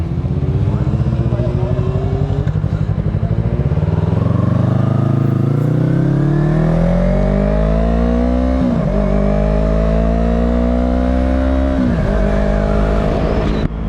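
Several motorcycles at an impromptu bike meet rev loudly and close by, engine pitch climbing steadily through repeated throttle pulls with brief shifts, a dense continuous roar throughout.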